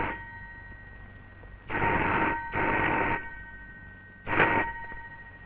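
A telephone bell rings in a Malayalam film scene, three loud bursts with pauses between, the last one shorter, alone with no talk over it.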